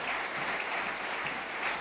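A church congregation claps together in a sustained, even burst of applause, a dense wash of hands heard from within the room at moderate volume.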